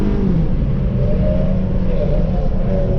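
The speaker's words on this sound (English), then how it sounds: "Come on, TC, make some noise with some power." A car at a street car meet in Mexico, its engine rumbling loudly up close in a short, sustained rev with a deep, throaty low end and no talking over it.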